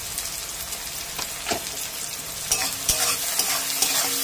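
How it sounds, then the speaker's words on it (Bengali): Spices frying in a pan with salt and turmeric, a continuous close sizzle broken by stirring scrapes, growing a little louder toward the end, with no speech. "আবারও আমি মশলাটা ভালো করে কষিয়ে নেব।"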